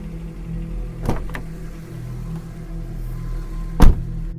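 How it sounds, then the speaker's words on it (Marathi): A car's passenger-side door opens on a dark, rainy mountain ghat road at night: a sharp mechanical clunk stands out clearly above a steady low engine rumble, after a couple of fainter knocks. "पॅसेंजर साईडचा दरवाजा उघडला."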